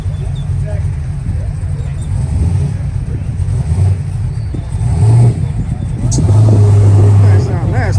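Chevrolet Z28 Camaro engine at an outdoor car show, a loud, deep, continuous idle rumble that swells into heavier revving in the second half, with people talking nearby over it.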